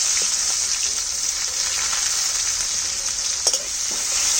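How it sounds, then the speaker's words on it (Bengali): Continuous hissing sizzle of chopped onions frying in a pan with nigella seeds, steady and close, with a few faint clinks of stirring and no talking. "আর পেঁয়াজটা আগে ভেজে নেব পেঁয়াজ কুচিটা"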